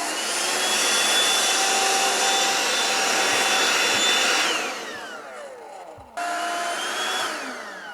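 A 12V cordless vacuum powered through an adapter by an 18V DeWalt battery whines steadily at full speed, then winds down, cuts out briefly and restarts with a loud motor whir.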